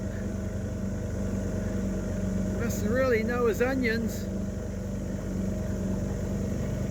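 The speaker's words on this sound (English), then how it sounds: "It's a big boat." A steady, loud engine drone of a big motorboat running at speed, with someone speaking briefly over it.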